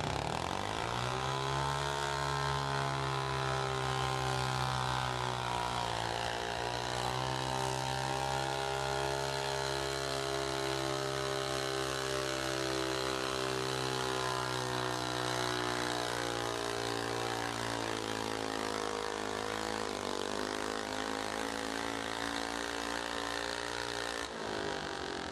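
A tractor engine roars loudly and continuously at a county fair tractor pull, its pitch sagging and rising as the load changes, no talk.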